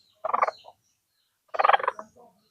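A red junglefowl gives two short, loud, raspy gobbling calls, each about half a second long and spaced about a second apart, close by with no other sound.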